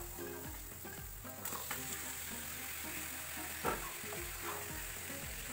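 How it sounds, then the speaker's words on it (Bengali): Marinated chicken pieces go into hot frying masala in a pan for a home chicken curry, sizzling steadily and fairly quietly with occasional stirring scrapes and no talk. "এরপর আমি মশলাটার মধ্যে একে একে আগে থেকে ম্যারিনেট করে রাখা চিকেনগুলো দিয়ে দিচ্ছি।"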